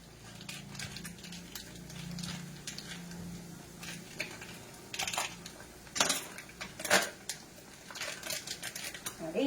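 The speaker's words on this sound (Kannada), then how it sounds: "ಹಾಗಾಗಿ ನಾನು ಇವಾಗ ಮೇನ್ ಈ ಪನ್ನೀರನ್ನ ಕಟ್ ಮಾಡ್ಕೊಳ್ತೀನಿ" A knife cuts a block of paneer on a board in a home kitchen, producing a run of close, light taps and clicks that grow busier and louder toward the end over a low room murmur.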